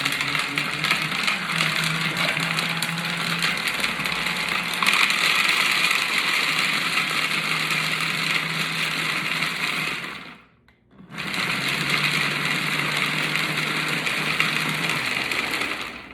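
Loud steady motor whir of a Flex Plus food processor chopping chicken salad ingredients close by, stopping briefly for about a second and then starting again at the same pitch.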